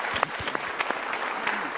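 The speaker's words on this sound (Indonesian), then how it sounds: "berikan tepuk tangan." An audience at a motivational talk gives a short burst of applause, with scattered claps rising from a lively crowd.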